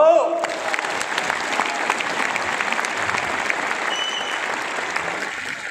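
Steady, dense clapping rises from a large audience at a motivational talk, holding at an even level for several seconds with a brief tonal sound at the start and faint crowd murmur beneath.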